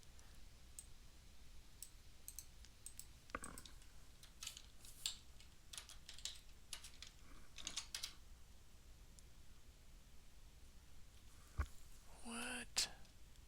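Quiet, scattered clicks of fingers typing a password on a computer keyboard, irregular bursts of keystrokes with pauses and a soft low background hum, plus a brief louder clatter near the end.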